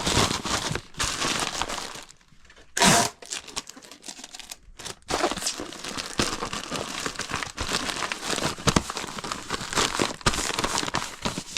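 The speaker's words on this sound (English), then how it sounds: "Then what I like to do is just put a little bit of tape on the ends here." Slippers being packed into a plastic mailing bag with tape pulled over the ends, loud close crinkling and rustling of plastic with sharp handling noises and a short quieter stretch.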